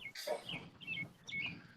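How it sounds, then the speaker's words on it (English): Birds chirping outdoors, a few short high calls scattered over a couple of seconds, faint and somewhat distant, with no one speaking. "Those birds are so awesome."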